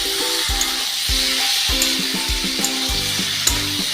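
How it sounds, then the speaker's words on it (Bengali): Kochur loti (taro stolon) with shrimp sizzling steadily in a pan, with repeated knocks and scrapes of a stirring utensil against the pan at a regular, close rhythm. "এবার এটা দিয়ে মাখা মাখা হবে। এটা কিন্তু ফ্রাই হবে।"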